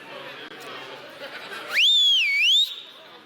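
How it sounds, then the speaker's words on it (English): A person gives one loud, close whistle lasting about a second, sliding up then dipping and rising again, after a stretch of murmured room chatter. "I learned how to whistle."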